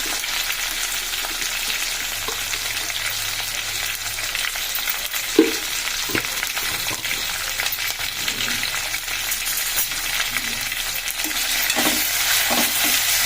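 Bendakaya pulusu, an okra stew with ginger paste, bubbles and sizzles steadily in the pot while a spoon occasionally stirs and knocks against the side, the cooking noise loud and constant.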